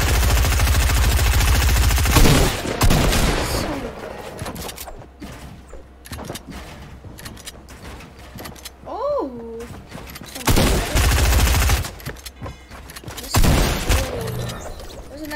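Gunfire from a Fortnite match crackles in short bursts and single shots, loud and close at times, with a commentator's voice running over much of the action.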